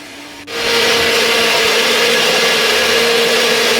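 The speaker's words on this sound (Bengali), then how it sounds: "মা কিন্তু মিক্সির মধ্যে ভালোভাবে পেস্ট করে নিয়েছিল।" A kitchen mixer grinder kicks on after a short quiet moment and runs with a loud, steady whirring drone while grinding taro (mankochu) into a paste.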